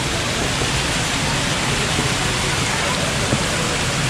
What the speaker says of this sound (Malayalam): ആ വെള്ളച്ചാട്ടം കൊള്ളാലേ.